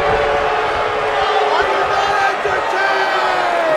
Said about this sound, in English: The crowd booing the Celtic Warrior